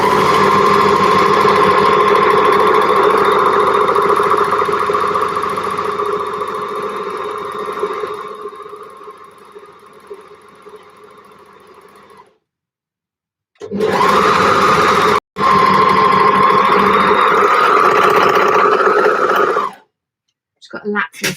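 Sewing machine topstitching a gable top, a loud close whirring hum that runs for long stretches, fades, cuts out, then starts again before stopping; speech may be present.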